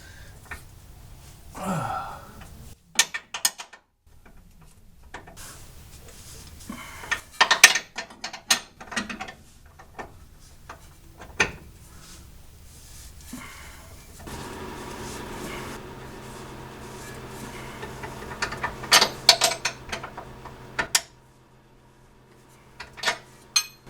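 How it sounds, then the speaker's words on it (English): Wrench work loosening the lower control arm bolts on a second-generation F-Body front end, heard as scattered ratchet clicks and metallic clanks with quiet gaps and a low hum in the background. "we've loosened both control arm, bottom control arm bolts, 4 or 5 turns"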